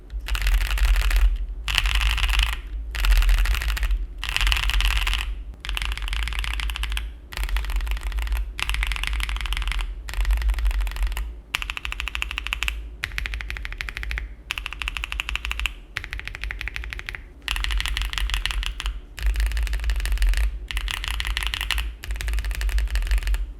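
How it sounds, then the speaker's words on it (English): Typing on a Mode Tempo mechanical keyboard: close, crisp key presses come in rapid bursts separated by brief pauses, with a low steady hum beneath and no talking. "the keys along the border of the keyboard sound noticeably different than the ones in the middle"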